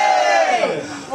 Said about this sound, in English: That rarely ever gets a cheer.